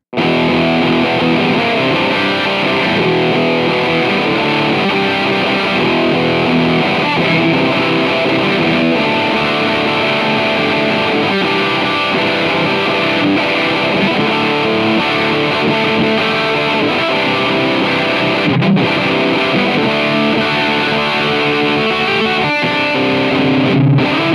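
A sustained, heavily distorted electric guitar through Amplitube amp-simulation software plays steadily with a thick midrange tone, loud and continuous with no voices.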